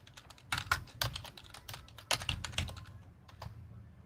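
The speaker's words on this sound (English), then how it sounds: "Sorry if my typing is loud." Computer keyboard typing comes in quick irregular bursts of clicks and clacks, close and fairly soft, with short pauses between runs of keystrokes.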